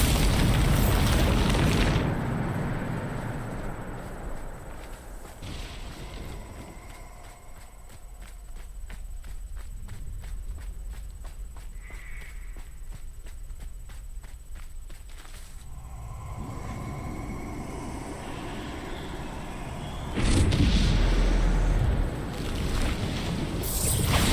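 Bombarda spell blasts in Hogwarts Legacy burst out as loud booming explosions near the start and again toward the end, with a quieter stretch of rumbling, rattling game ambience between them.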